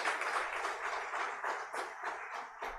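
Applause from an audience at an international academic conference welcoming the chief guest; moderately loud, fairly steady clapping with a faint hum underneath, lasting under three seconds.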